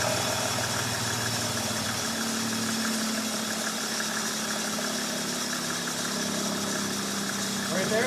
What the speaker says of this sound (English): You hear the idle's too high.